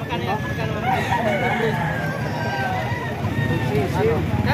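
Banded gamecocks at a market in San Jose del Monte, Bulacan crow repeatedly in the background, mixed with crowd chatter and steady ambient noise throughout.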